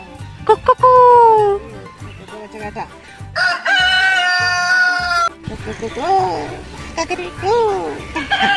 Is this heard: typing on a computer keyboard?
no